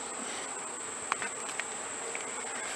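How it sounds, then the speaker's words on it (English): Bees in a hive hum during a honey harvest on a farm, a steady dense buzz of many insects with a few brief louder passes of individual bees nearby. "Sounds like there's a lot of bees in there."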